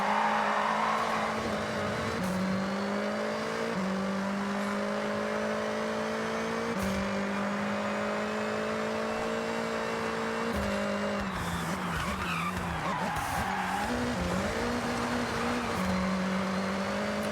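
Racing car engines in Forza Horizon hum at a steady drone that shifts pitch through gear changes, with a rougher, scrabbling stretch of revving partway through, continuous and close.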